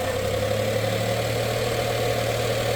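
Daihatsu Xenia 1000 engine held steady at 2000 RPM, a constant, close, even mechanical hum with no change over the short span and no voices.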